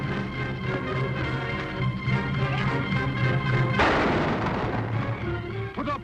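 A single loud gunshot bursts out midway through a western scene, sharp and close, with a ringing decay under a steady tonal music bed, and no talking.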